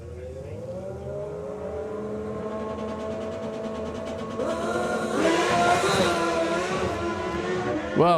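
Drag racing cars launching off the start line at a Summer Nationals meeting, one blowing its tyre away, a loud steady engine drone that surges into a harsher, wailing roar of revving and spinning tyres partway through.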